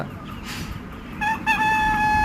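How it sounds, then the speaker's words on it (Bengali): Free-range chickens roam a farm garden in Murshidabad, with faint clucking at first before a nearby rooster lets out a loud, drawn-out crow. "মুরগিগুলোকে ফ্রি রেঞ্জে কিভাবে লালন পালন করা যায়"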